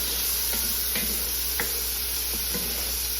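Garlic and vegetables sautéing for country-style baked beans, a steady soft sizzle with a few light utensil taps and stirs scattered through it.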